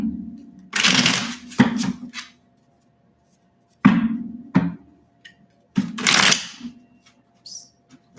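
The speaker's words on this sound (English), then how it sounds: "These are slippery. All right, one more shuffle." A slippery deck of tarot cards is shuffled close up in several quick rustling, riffling bursts separated by short quiet pauses.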